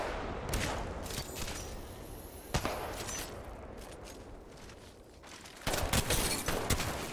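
Gunfire in the Apex Legends video game, a sustained burst of rapid shots with a sharp single crack midway and another loud flurry near the end, fairly close.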